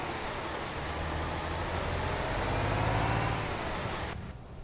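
A virtual truck in Euro Truck Simulator 2 drones with a steady low engine rumble that swells slightly mid-way, then eases off at the end, with no talking.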